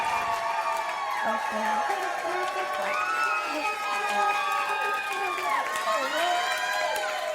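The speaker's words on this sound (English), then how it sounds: "Guys, keep clapping for Erica Cobb." At a live audience show, a crowd cheers and whoops loudly, with many overlapping excited voices rising and falling and faint clapping beneath, sustained for several seconds.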